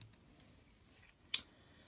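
Scissors trimming waste silk thread while tying a Daddy Long Legs fly, a single small crisp snip close by, heard over quiet background.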